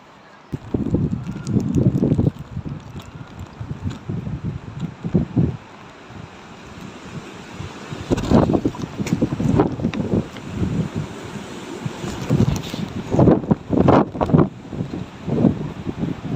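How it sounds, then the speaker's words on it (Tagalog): Strong gusts of wind buffet the microphone in rough, uneven bursts during a long bicycle ride in Pangasinan, with brief lulls between the loud blasts. "Lakas ng hangin guys."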